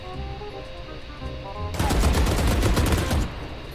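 A weapon fires in the Valorant video game: after a low background hum, a loud burst of rapid automatic shots with heavy recoil rattles for about a second and a half, then stops.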